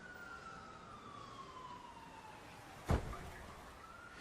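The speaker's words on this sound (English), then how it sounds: "he hears an ambulance outside" A faint siren glides slowly downward in pitch outside, distant and thin over a quiet background, with one short sharp thump near the end.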